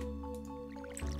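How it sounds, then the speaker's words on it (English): Crops being watered with a watering can in Stardew Valley, a soft squishy splash of water near the end of the clip over steady game music, with no talk. "but let's get these watered now."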